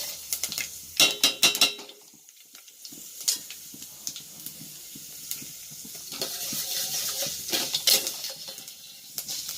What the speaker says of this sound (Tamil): வெந்தயம் வந்து நல்லா பொன்னிறமாக வறுபட்டுருணும்.